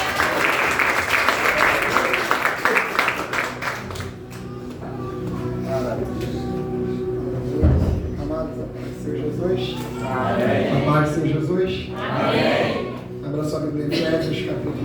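A church congregation claps to welcome a presbyter at a festival service, starting loud and dense, then thinning out as a voice and some music take over.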